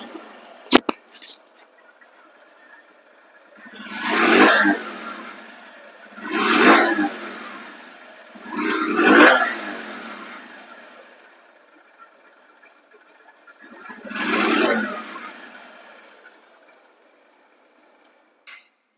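A second-hand Honda Dream 110cc motorcycle engine is revved four times in separate rising-and-falling bursts over a quiet idle, each roar lasting about a second, with a brief knock near the start.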